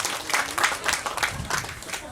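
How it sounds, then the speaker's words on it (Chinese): Guests clap in rhythmic bursts at an Amis wedding in Taiwan, a moderate crowd of hands close by and continuous for the whole stretch. "大家掌声鼓励"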